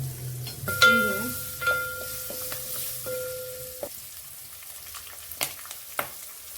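Chili, garlic and ginger hit hot oil in a pan, giving a frying sizzle with a few sharp clicks and knocks of utensils, fading to a quieter hiss; brief tonal beeps sound early on.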